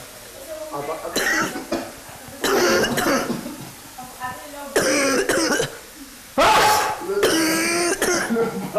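Several people cough hard in repeated harsh bursts from chili pepper fumes while cooking, close by, with voices talking in French in between the coughing fits.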